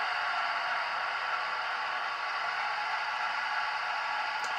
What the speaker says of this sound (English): High-speed fan.